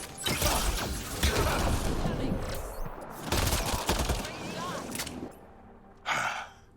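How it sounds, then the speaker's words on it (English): Combat in the game Mass Effect Andromeda, with a dense wall of gunfire and a grenade launch. The fire is loud and sustained, cuts off near the end, then one short burst follows. "Launch the grenade!"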